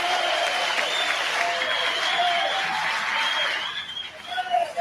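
An audience applauds in a ceremony hall during an official homage event, with dense, sustained clapping that carries through most of the stretch before thinning into scattered claps near the end.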